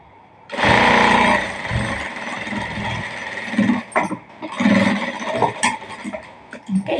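Sewing machine stitching a blouse, starting abruptly with a loud rapid mechanical whirr that continues, then breaks into shorter uneven bursts as the stitching stops and restarts, close up.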